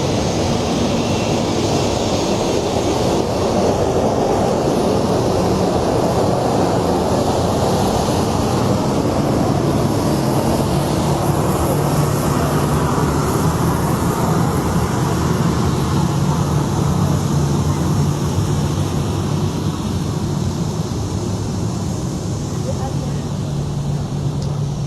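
The engines of Liberia's presidential plane roar in a dense, constant, loud wash of noise that fills the whole stretch without letting up, heard close by.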